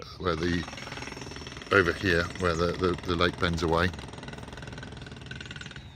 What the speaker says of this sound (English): I dare say you can hear the pneumatic drill in the background